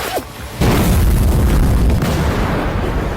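An explosion from the action film Retta Thala bursts in with a heavy low boom and then a sustained roaring rumble of fire and debris, loud and close, following a brief quieter lead-in.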